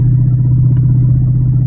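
A 392 car cruising at about 60 mph with windows up gives a steady, loud low drone inside the cabin, an even engine and road rumble with no talk.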